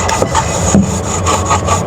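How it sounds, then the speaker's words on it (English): A drywall knife edge is rubbed back and forth over wet joint compound during mudwork, a steady close scraping and rubbing in repeated strokes that keeps going without a break and carries no talk. "I can feel the difference of when I'm rubbing this edge back and forth"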